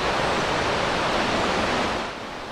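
Rain falling at Jōren Falls in Izu, a steady dense broadband hiss close by, likely mixed with the roar of the waterfall, with no voices.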